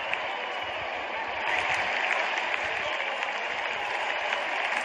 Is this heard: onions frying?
no